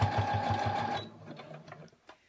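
A sewing machine stitches elastic onto a mitten in a fast, even, close whir with rapid needle thumps, then stops abruptly, leaving a few soft handling clicks.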